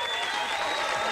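A live television New Year's Eve show audience applauds singers: a dense, steady burst of clapping from a large crowd filling the room, with no one speaking.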